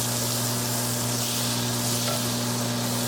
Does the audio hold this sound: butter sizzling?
yes